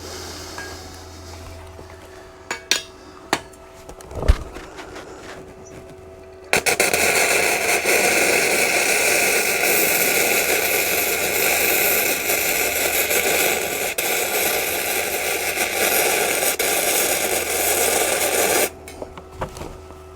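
Welding on a mid-century porch: after a few scattered knocks, a loud, dense, steady crackling hiss starts abruptly and holds for about twelve seconds, then cuts off sharply.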